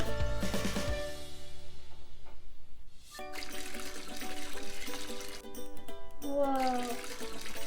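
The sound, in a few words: water slowly poured into a tray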